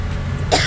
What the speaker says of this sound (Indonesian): batuk banget sih